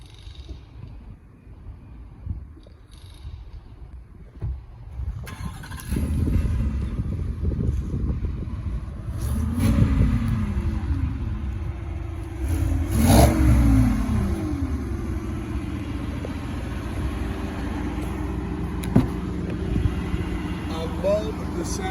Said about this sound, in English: Love the sound of that 5-liter V8 engine paired with our 10-speed transmission.